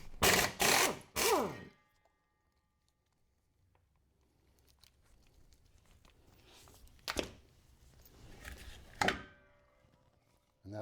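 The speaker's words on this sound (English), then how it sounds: "Then you get a 15mm socket and take out these 3 bolts" A ratchet on a 15mm socket clicks in quick bursts while removing bolts on a Meyers Manx dune buggy's disc brake setup, loud at first, then quieter metallic handling and a few sharp clacks.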